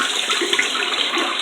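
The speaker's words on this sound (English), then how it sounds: "And then if you see, we'll flush it." Toilet flushing right after a new universal fill valve has been fitted, a loud, steady rushing of water close up that fills the whole clip with no voices.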